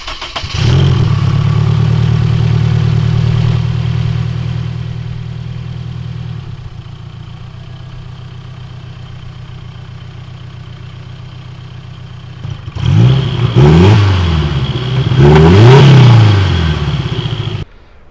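A Honda S2000 drag build with a small turbocharged motor, nitrous used to spool the turbo, idles loudly and steadily, then quietens before two sharp, rising revs near the end, with no talking.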